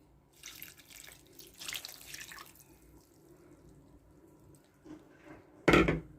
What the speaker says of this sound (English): I will be adding my meat stock